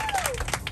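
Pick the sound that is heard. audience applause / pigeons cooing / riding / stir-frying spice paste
audience applause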